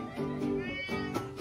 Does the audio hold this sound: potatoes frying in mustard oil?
no